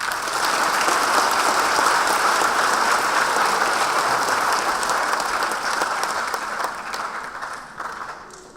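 Sustained applause from a large audience at a youth graduation ceremony on Oahu, dense and steady for most of the stretch before thinning and fading toward the end.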